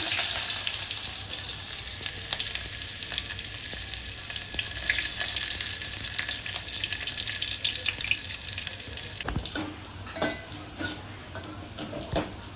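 Curry leaves and onion sizzle loudly in hot oil close up, a dense continuous frying hiss that drops abruptly to a quieter crackle with a few stirring knocks near the end.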